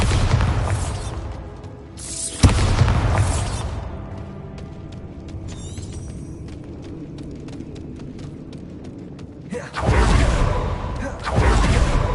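A Bombarda spell explosion in the Hogwarts Legacy video game: a loud booming burst with a rumbling tail, followed by quieter clattering debris and game ambience, then further heavy bursts near the end.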